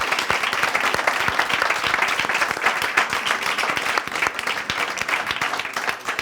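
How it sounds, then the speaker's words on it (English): A live audience at a band's Q&A applauds steadily with dense, continuous clapping that stays loud throughout and tapers only slightly near the end. "Round of applause for that."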